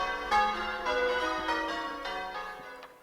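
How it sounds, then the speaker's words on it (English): A holiday bell rings out in a bell tower as a stage effect in a youth theatre showcase: repeated loud, resonant peals with long ringing overtones, about every half second, slowly fading toward the end. "the king himself rang the holiday bell."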